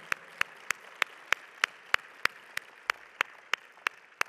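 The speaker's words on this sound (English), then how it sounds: "An applause to all of them." Slow, evenly spaced clapping at a business conference, about a dozen crisp single claps in a steady rhythm, fairly close and alone without talk.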